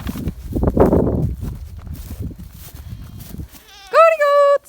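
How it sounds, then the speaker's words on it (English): Goats bleat at a farm as breeding season nears, a shuffling of hooves and movement first, then a close, loud sustained bleat near the end. "Come on, goats."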